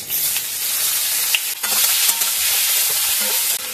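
Chopped onion hits hot oil with whole garam masala, bay leaf and cumin, giving a loud, steady sizzle with crackling bursts and occasional stirring scrapes throughout.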